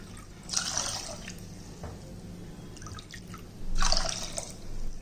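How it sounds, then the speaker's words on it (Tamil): Two cups of water are poured into a pot of cooking horse gram in a home kitchen, heard as two short splashing, dripping bursts separated by a quiet pause, close and clear. "இப்போ அந்த அதே கப்பையில் வந்து இப்போ வந்து ரெண்டு கப்பு தண்ணி ஊற்றிக்கிடுவோம்"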